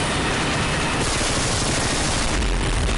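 Uzi submachine gun fire in Call of Duty Modern Warfare 2 multiplayer, a dense, steady burst of rapid gunfire that fills the whole stretch at high loudness with no talk over it.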